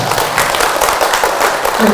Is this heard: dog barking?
no